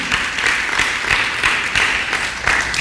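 Church congregation applauding together, a steady wash of many hands clapping for a few seconds with no voices over it.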